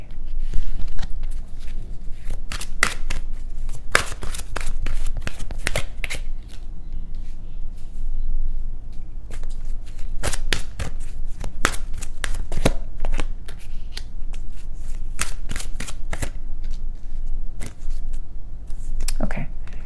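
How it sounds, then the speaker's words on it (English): Romance Angel oracle cards and Witch's Tarot cards shuffled by hand up close, a loud, continuous run of crisp flicks and riffled slaps in uneven bursts, with no voice over them. "I'm using the Romance Angel cards of Doreen Virtue, and I'm gonna clarify them with the Witch's Tarot"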